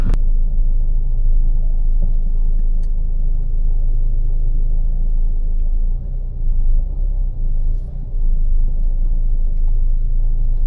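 A Mercedes W212 E250 CDI 4MATIC with a 7-speed G-Tronic automatic cruising, heard from inside the cabin as a steady, loud low road rumble and engine drone, continuous with a brief dip near the end, no talk.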